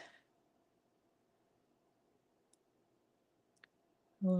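Wire cutters trimming a wire loop for jewelry ear wires, two small sharp snips over a quiet room hum, followed by a louder handling sound at the end.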